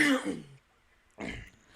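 A man gives a rough, close throat-clearing cough, then after a short silence another harsh cough follows, both loud and near on a podcast recording.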